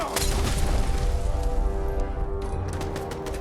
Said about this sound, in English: I was just inside the range of that explosion.